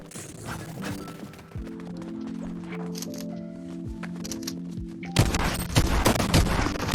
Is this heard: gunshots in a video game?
yes